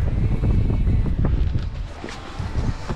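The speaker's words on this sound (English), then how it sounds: "Got about 11, 12 knots of wind." Wind buffets the microphone on a sailboat under headsail, a loud, steady low rumble with gusting swells over faint water, and no talk.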